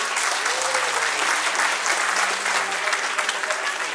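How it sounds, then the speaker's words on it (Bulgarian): A crowd at a cake art awards ceremony in Bulgaria applauds steadily and loudly, a dense wash of clapping that fills the whole stretch without pause. "Вашите бурни аплодисменти."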